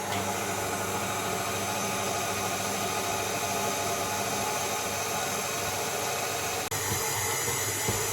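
A bread machine kneading pizza dough gives off a loud, continuous motor whir with a steady broadband hum, unbroken apart from one brief dip near the end.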